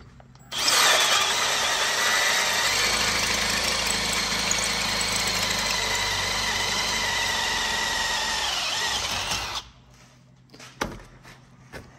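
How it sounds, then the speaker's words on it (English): A power drill whines steadily as it bores out a stock PCV valve held in a vise, using cutting fluid, running loud and continuous for about nine seconds before cutting off, leaving faint clatter. "we will drill this out from this side"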